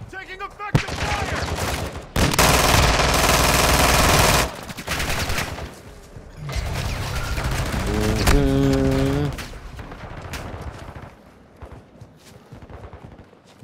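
Bursts of rapid automatic gunfire and single shots from a military shooter video game ring out loud and close. They come in several volleys separated by short pauses, with voices over a radio in between.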